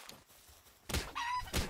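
Chickens in the video game Palworld cluck in two short, fairly loud bursts after a quiet stretch, with a brief pitched call between them.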